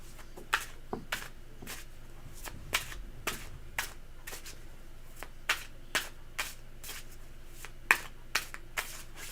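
A deck of tarot cards being shuffled: a run of crisp, quick riffles and snaps at an uneven rhythm, close by, with no voices.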